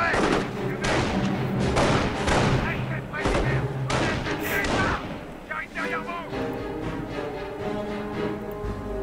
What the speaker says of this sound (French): On va balancer une grenade.